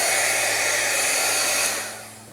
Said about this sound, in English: Just hit it with the heat and it just puffs and puffs.